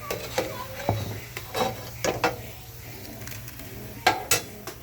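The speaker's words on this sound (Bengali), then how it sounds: "আমার এই বলগুলো ভাজা হয়ে গেছে। এবার আমি তুলে দেবো তেল থেকে ছেঁকে ছেঁকে।" Fried snack balls are lifted and strained out of hot oil, with sharp metal clinks and scrapes of a utensil against the pan recurring irregularly over a low, steady sizzle, close and fairly quiet.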